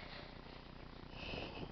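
A cat purrs or growls softly and faintly, a low continuous rumble while waiting to be fed pieces of meat, close but quiet.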